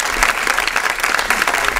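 Loud, dense clapping from an audience at a Richmond Chamber of Commerce awards gathering honoring a police department awardee, a steady burst of applause filling the short span with no talk over it.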